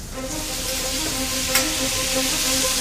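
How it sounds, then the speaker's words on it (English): Chopped onion and fennel sweat gently in a pan, giving a steady soft sizzle and hiss with faint stirring scrapes throughout, close and even, with no talking. "Now we sweat this off"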